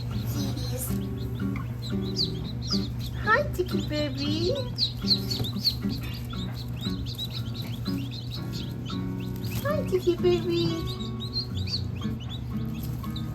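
Newly hatched chicks cheep in a steady, busy chorus of high peeps close by, over a constant low hum from a nearby dryer, while someone talks softly to them.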